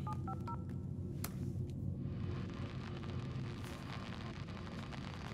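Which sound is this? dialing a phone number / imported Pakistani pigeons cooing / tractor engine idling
dialing a phone number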